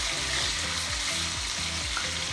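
A New York strip steak with a thick fatty edge sears in a hot pan, giving a loud, steady sizzle and crackle throughout, with rhythmic scraping as the meat is moved around.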